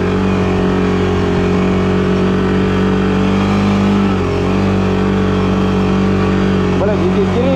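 A Can-Am BRP Outlander 1000 XMR ATV on Gorilla 30 tires grinds through snow, its engine droning loud and steady at close range, with brief pitch wobbles near the end and someone speaking over it.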